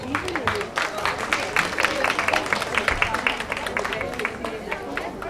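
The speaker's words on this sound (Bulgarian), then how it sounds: "Моля за вашите аплодисменти." An audience at a 90th anniversary celebration of a village community cultural centre in Novoselyane, Bulgaria, claps continuously with crisp, fairly near hand claps over soft crowd murmur.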